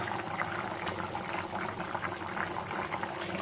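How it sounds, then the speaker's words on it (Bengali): Fish curry boiling in a covered pot on a gas stove, a soft continuous bubbling and simmering hiss that stays low and even throughout with no voices. "ওই দেখো মাছের ঝোল ফুটছে"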